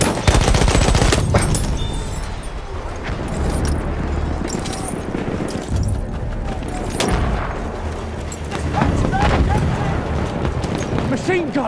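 Battlefield 1 machine gun fire: loud, near-constant rattling bursts with explosions and battlefield din layered over them, while voices talk and shout on top.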